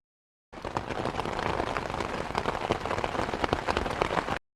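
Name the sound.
rain falling in a cartoon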